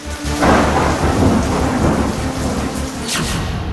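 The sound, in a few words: heavy monsoon rain with thunder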